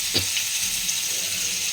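Sliced eggplant fries in oil in a home kitchen pan, giving a steady hiss and crackle of sizzling with a few sharper pops near the start.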